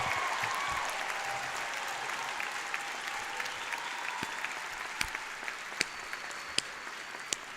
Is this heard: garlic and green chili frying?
no